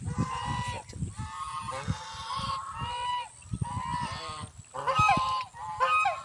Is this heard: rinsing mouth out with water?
no